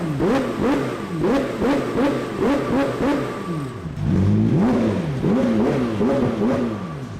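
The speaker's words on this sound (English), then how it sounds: "we've been kind of revving it for a couple of minutes" A McLaren 720S engine revs repeatedly in loud, close bursts, each climb and drop following the next in a steady rhythm, with a slightly deeper, rougher stretch midway.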